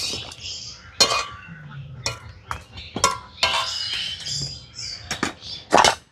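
Flour sweets are stirred in sugar syrup in a metal pot, giving repeated clinks and scrapes of a spoon against the pot in irregular bursts, close and fairly loud.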